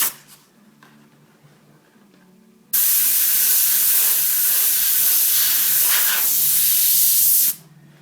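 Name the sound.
airbrush spraying paint for wood grain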